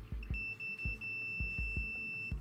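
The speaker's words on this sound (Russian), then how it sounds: "Как только мультиметр перестал пищать, значит он умер от пытки." A multimeter in continuity mode beeps as it discharges a capacitor, holding a steady high electronic tone that is broken by several soft, low thumps.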